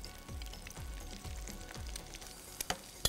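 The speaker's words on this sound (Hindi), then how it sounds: "इसके बाद ये गरम ऑयल आपने ऊपर से ऐड करना है" Hot oil poured over food sizzles in a steady broad hiss, with a few sharp crackles and pops near the end; no one speaks.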